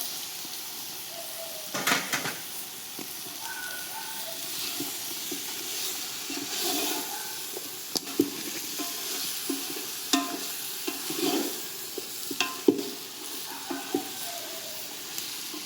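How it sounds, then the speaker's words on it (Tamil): Washed chicken and mint sizzling in a pan for ghee chicken biryani, a continuous hiss broken by intermittent stirring scrapes and clinks, close and fairly quiet, with no talking. "இதோடவே கழுவி வச்சுருக்கிற சிக்கன் இப்படி சேர்த்துடலாம்"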